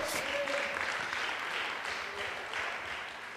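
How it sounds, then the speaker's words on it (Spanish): A church congregation applauds during a Spanish-language sermon, a broad rush of clapping that is strongest at the start and eases slightly, with faint tonal sounds in the background. "¿Cuántos no pueden dar un aplauso más fuerte a la palabra de Dios?"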